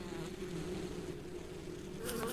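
A bee buzzes in the adventure game Bertram Fiddle, a steady, fairly faint droning hum heard alone with a brief rustle near the end.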